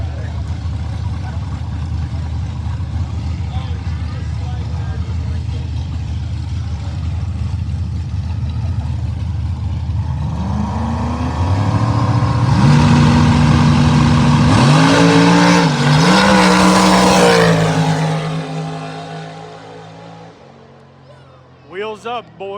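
A no-prep true street drag car with turbo and nitrous idles roughly, then revs hard in rising, wavering pulls near and loud before the engine cuts away, with a voice speaking over it.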